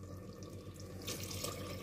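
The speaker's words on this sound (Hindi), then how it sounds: "और अब हम इसमें डालेंगे थोड़ा सा पानी" Water splashes and trickles as it is poured onto lightly crushed chickpeas in a cooking pot, a soft steady pour over a low kitchen hum that grows briefly louder, with no speech.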